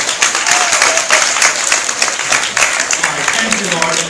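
A fan-convention audience gives a round of applause for a guest, a dense, continuous patter of many hands that stays loud throughout, with voices and a few cheers mixed in beneath it.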